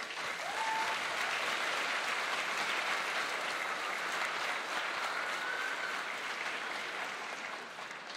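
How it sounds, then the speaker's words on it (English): Steady, full-room applause from a high school graduation ceremony audience honoring parents and teachers, dense and sustained throughout before easing slightly at the end. "I'd like to have you have a round of applause for two special groups."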